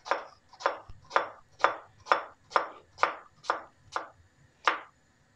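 A knife chops vegetables on a cutting board for a meze, cutting them into small pieces for frying. About ten crisp, evenly spaced strokes land close by with a brief pause before the last one, and no talking.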